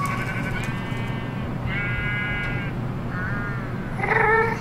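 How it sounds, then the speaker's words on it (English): A sheep-like mob in the Twilight Forest of Minecraft bleats several times in short harmonic calls over a constant low game drone and background hum, with a louder cry near the end. "That was the sheep, not the sheep, but the whatever the Twilight version is called."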